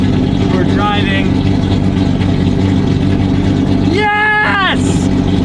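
A Datsun 280Z engine, abandoned and driven for the first time in five years, drones steadily at close range as the car drives, with excited voices calling out over the hum.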